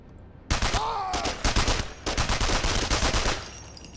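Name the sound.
gunfire from a Russian Call of Duty-style video game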